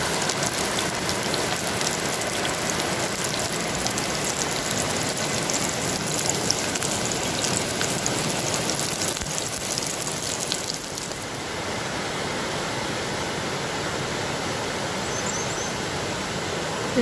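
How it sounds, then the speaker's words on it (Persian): Continuous broadband rushing of a flowing river in a forest, steady and close, slightly quieter after a brief shift partway through. "به صدای طبیعت گوش کنید، صدای رودخونه چقدر آرامش بخشه."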